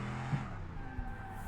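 A car in a racing video game drifts through a corner with a steady engine drone and a sustained tire skid, brief and moderately loud, with no talk.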